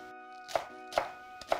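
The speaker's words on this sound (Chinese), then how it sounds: "准备一颗大葱，切成葱花，" A knife chops a scallion into small pieces on a board: three crisp, close chops spaced roughly half a second apart over a steady faint hum, with no voices.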